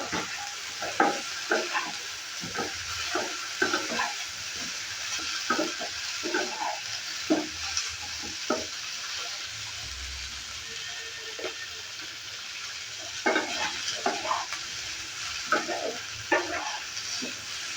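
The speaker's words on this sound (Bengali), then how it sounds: "আলু আর সয়াবিনটাকে আমি ভেজে নিয়েছি।" Potato and soybean chunks sizzle in a hot pan with steady frying crackle, and a spoon scrapes and stirs in repeated close taps.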